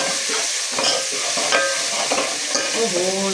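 Browned onions with spices frying in a pan for kadhi, a steady loud sizzle with scraping stirs of a spoon throughout, no voices.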